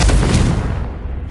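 A Confringo spell explosion in Hogwarts Legacy, a single loud close blast with a deep boom that decays over about a second.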